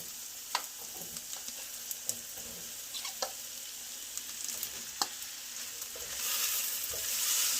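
Bok choy and sweet red peppers sizzle and stir-fry in a hot wok, with a steady loud hiss, scattered crackles and the scrape of stirring, and the sizzle swells near the end.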